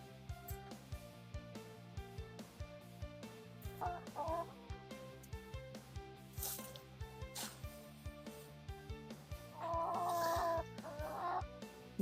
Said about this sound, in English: Chicken's very interested in what I'm doing.